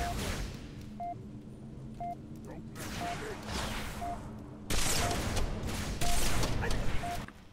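A sniper rifle shot rings out during a Halo match at the highest difficulty, a sharp burst in the middle of steady game noise, with a player talking over the action.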